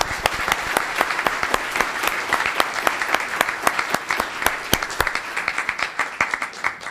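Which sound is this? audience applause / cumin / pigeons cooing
audience applause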